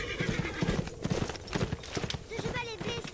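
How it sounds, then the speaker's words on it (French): Rapid hoofbeats of a video game horse clatter in a steady galloping rhythm, with the injured horse's whinny rising near the end and a voice talking over the sounds. "Ce cheval est blessé, père."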